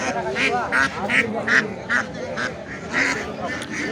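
Ducks for sale at a traditional village livestock market quack repeatedly in a rhythmic series of nasal calls, close and fairly loud, over a busy crowd murmur.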